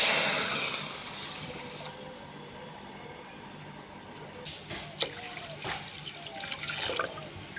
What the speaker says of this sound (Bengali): দুই বাটি জল দিয়ে দিলাম